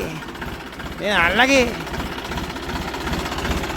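A tractor engine runs with a steady low chugging throb, close by, while a voice speaks briefly over it near the start.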